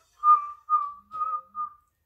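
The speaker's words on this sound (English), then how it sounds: "Yeah, that's a whistle." A person whistles a simple tune of four clear sustained notes with short gaps, close and fairly loud, with no talking over it.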